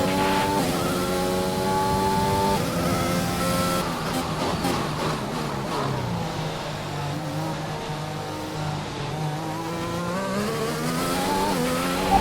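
F1 race car in the F1 2021 video game driving at speed, a high engine whine rising and falling through gear changes, continuous and moderately loud with no talk.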